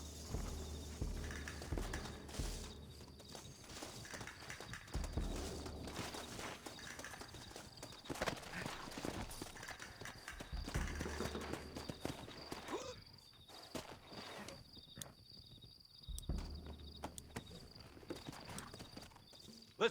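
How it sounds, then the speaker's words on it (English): Horses' hooves clip-clop steadily on the ground in Red Dead Redemption, quiet and fairly close, with occasional louder thumps and game ambience throughout. "Looks like Carlos left us some horses."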